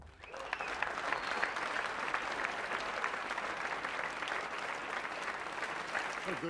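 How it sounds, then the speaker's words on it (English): A large audience at a Call of Duty: Advanced Warfare multiplayer presentation claps in dense, sustained applause that stays steady and loud throughout, with no speech over it. "What a good crowd, huh?"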